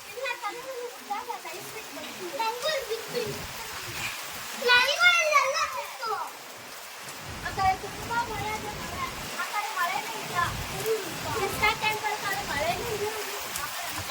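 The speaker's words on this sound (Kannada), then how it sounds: "ಏ ಜೋರಾಗಿ ಮಳೆ ಬೀಳ್ತಾ ಇರೋದು" Steady heavy monsoon rain pours in the background as children talk and shout excitedly over it, with the rain's wash rising between their voices.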